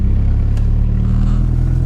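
A manual-transmission car engine drones loud and steady with a low, rough, tractor-like rumble as a learner drives stick, holding its pitch throughout with no talk.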